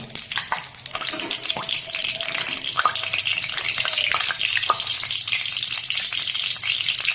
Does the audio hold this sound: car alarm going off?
no